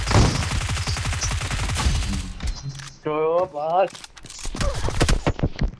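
Close-range shotgun blasts in a video game, a few sharp bursts scattered among excited male chatter, with clusters of rapid gunfire and footsteps in between.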